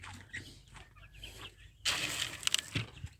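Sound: free-range chickens clucking on a chicken farm

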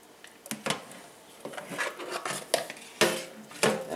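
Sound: mashing fish eggs in a colander to strain them

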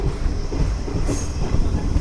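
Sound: passenger train stopping at Bellamkonda station

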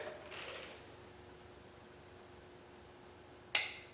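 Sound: torque wrench tightening intake manifold bolts on a V8 engine

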